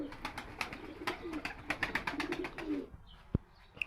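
Pigeons cooing inside a coop, repeated soft coos in quick rhythmic bursts up close, followed by a brief quieter stretch with a sharp knock and faint chirps.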